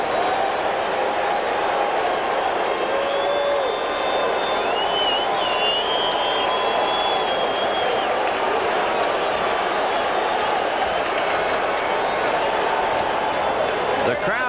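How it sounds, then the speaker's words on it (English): A packed baseball stadium crowd roars at a 1986 World Series game between the Red Sox and the Mets, a steady loud wash of cheering and murmur with a commentator talking over it and faint whistles. "The crowd is showing life."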